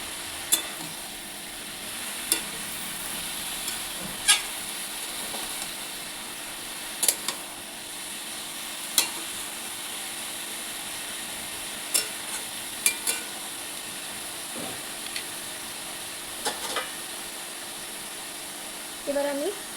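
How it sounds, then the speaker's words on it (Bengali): Chopped tomato pieces go into a hot pan for a vegetarian Bengali cabbage dish, raising a steady sizzle while a utensil stirs and scrapes in irregular clicks throughout. "এবার আমি দিয়ে দেবো কেটে রাখা টমেটোর টুকরোগুলো।"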